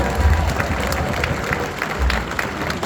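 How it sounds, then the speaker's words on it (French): Wedding guests in Paris applaud a dance, a dense crowd clapping with some cheering and low crowd murmur, loud and close throughout. "J'aimerais que vous fassiez un tonnerre d'applaudissements pour cette danse de la part de Marielle"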